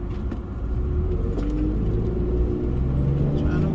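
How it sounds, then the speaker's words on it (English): Road traffic passes by, a steady low rumble of car engines and tyres sustained throughout at moderate loudness, with no talk. "Trying to watch this traffic"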